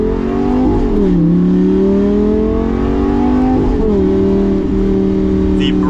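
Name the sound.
2014 Lamborghini Gallardo LP550-2 engine while driving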